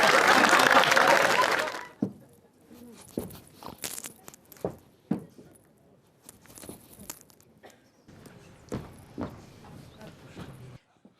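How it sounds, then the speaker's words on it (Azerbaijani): A comedy show's studio audience bursts into loud applause for about two seconds, which stops abruptly and gives way to scattered footsteps and thumps on a stage. "gürültü alqışlarla biz davam edirik"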